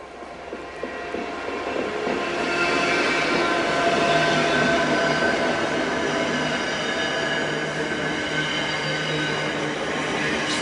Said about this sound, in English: I spot an unusual freight train on the line approaching from Drax